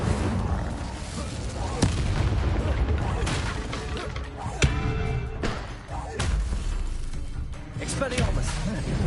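Incendio fire spells and other combat spells cast in Hogwarts Legacy: repeated whooshing bursts and thuds mixed with battle effects, interrupted by sharp hits, all under a voice speaking throughout.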